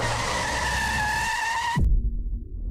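A car brakes hard and skids in a radio safety ad, a loud sustained tire squeal that ends abruptly in a low thud, followed by a brief rumbling tail.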